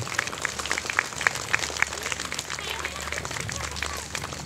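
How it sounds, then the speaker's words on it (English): Scattered clapping from a small outdoor crowd at a school playground dedication, greeting the superintendent, steady and moderate with a few sharper claps standing out and murmuring voices beneath. "Let's give her a round of applause"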